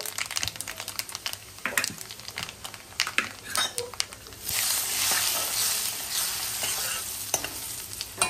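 Asafoetida, curry leaves and red chili powder go into hot oil for misal, starting with scattered clinks and stirring. Then a loud, steady sizzle takes over for the rest of the stretch, with a spoon scraping the pan now and then.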